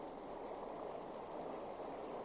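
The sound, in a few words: running water stream sound effect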